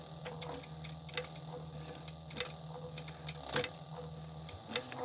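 A sewing machine back stitches with faint, rapid mechanical ticking and clicking, irregular sharp taps over a low motor hum, heard quietly and close.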